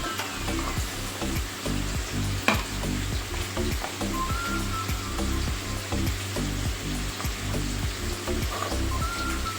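Spice paste fries in a pan for a vegetarian cauliflower and potato curry, giving a loud continuous sizzle broken by repeated rhythmic scraping strokes from stirring and an occasional sharp clink, heard up close without talk.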